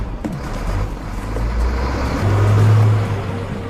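A delivery truck's diesel engine rumbles low and steady in a film scene, swelling slightly toward the end as if revving, with no one talking.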